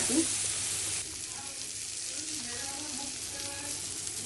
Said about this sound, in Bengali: এখন জল দিয়ে দিচ্ছি।